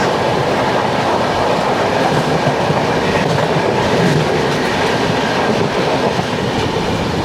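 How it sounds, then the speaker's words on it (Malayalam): Ernakulam–Madgaon Weekly Express rushing past at close range, a loud continuous roar of wheels and rattling carriages with rhythmic clatter over the rails throughout, no voices. "ഇത് എറണാകുളം മഡ്ഗം വീക്ക്ലി എക്സ്പ്രസ്"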